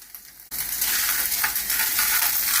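Lardons in a pan burst into a loud, steady sizzle after a half-second of quiet, the crackling frying continuing evenly to the end with no talk.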